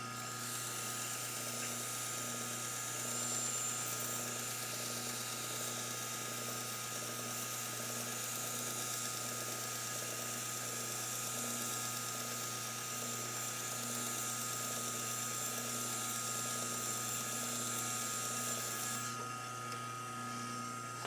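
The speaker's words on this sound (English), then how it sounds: "it's easier to have a long belt machine for polishing ferrules" A long belt machine polishes a golf club ferrule in a steady, even whir-and-rub of abrasive belt against the part, with constant motor hum running unbroken for the full length before a slight drop at the end.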